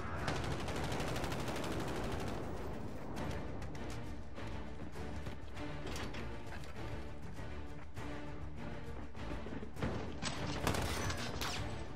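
Dense, loud gunfire bursts crack and boom throughout a Call of Duty Modern Warfare match, shotgun blasts among continuous battle noise with no clear gaps.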